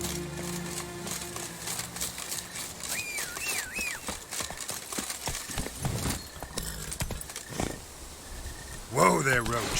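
Geralt's horse Roach in The Witcher 3: Wild Hunt, Blood and Wine, its hooves clip-clopping at a steady walking rhythm. Game voices, ambient effects and a brief roar-like burst near the end can be heard alongside.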